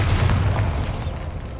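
A Bombarda explosion spell goes off in Hogwarts Legacy, a single loud, deep boom with a rumbling low tail that fades over a second and a half.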